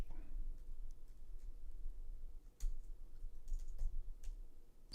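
Typing on a computer keyboard, scattered quiet key clicks in short bursts against a low background hum, with faint room noise and no clear talk.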